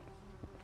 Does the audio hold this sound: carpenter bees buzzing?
yes